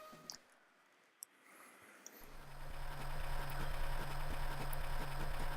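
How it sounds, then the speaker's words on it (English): In the Pokémon Emerald video game, a truck engine starts up after a few soft clicks and settles into a steady, rumbling drone that continues to the end, with no speech. "I hear an engine"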